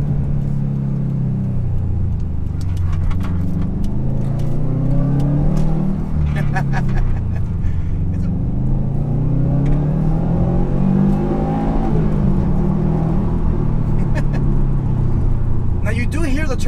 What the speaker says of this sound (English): Now you do hear the turbo spool